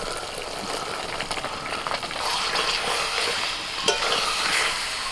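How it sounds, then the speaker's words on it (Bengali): Fried yellow cauliflower is stirred into oily masala in a pan for a yogurt cauliflower curry, giving a steady close sizzle with scraping and stirring clatter and occasional sharp knocks of the utensil against the pan. "এবার আমি এর মধ্যে ভাজা কপি দিয়ে দিচ্ছি।"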